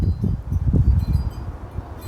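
Wind gusts through a backyard full of fallen leaves on a blustery spring day, giving a steady low rumble and buffeting against the microphone with no voices.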